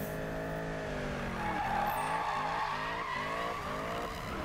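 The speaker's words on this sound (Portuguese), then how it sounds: "Então, pessoal, vamos mandar um drift aqui em off." Corvette in the racing video game Need for Speed 2015 slides through a drift, its tires squealing in long wavering tones over a steady engine drone, the squeal pulsing and bending several times.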